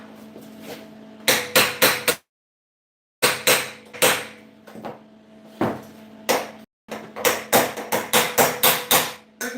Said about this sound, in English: Making sure to tap the weld and not the middle of the bar because you don't want to bend the bar.